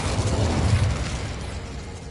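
An Incendio fire spell cast in Hogwarts Legacy, a loud low whooshing burst that swells briefly and then trails off into a rumbling roar, with no voices.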